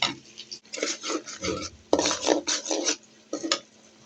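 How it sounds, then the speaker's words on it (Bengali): Ginger-garlic paste with cumin and coriander powder is stirred and fried in a pot, bursts of scraping and clattering utensil strokes against the pan with short pauses between, close and moderately loud. "তো দিয়ে আমি ভালো করে মশলাটা কষিয়ে নেব"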